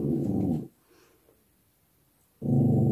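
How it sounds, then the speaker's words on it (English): A dog lets out loud, close growling barks in two bursts, one at the start and one at the end, with near silence in between. "my dog's barking, and that's honestly, it's distracting me"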